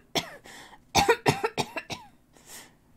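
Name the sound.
reader imitating a cough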